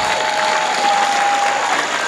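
Audience applauding at the official launch ceremony of a digital-house project, a dense, continuous wash of many hands clapping at steady loudness throughout, with no voices over it.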